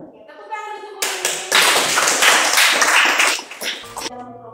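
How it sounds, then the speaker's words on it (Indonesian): Classroom applause as students clap for a teacher, a burst of hand clapping that swells and then fades, with children's voices before and after. "tepuk tangan untuk Bu."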